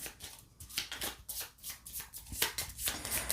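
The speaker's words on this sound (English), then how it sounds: "we're going to shuffle it up" A deck of playing cards being shuffled, with a rapid series of crisp riffling bursts close up, repeating in quick flutters over a few seconds.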